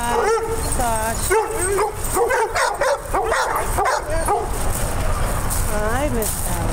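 Several dogs bark, yip and whimper excitedly at close range in a continuous busy stream, with people talking over them.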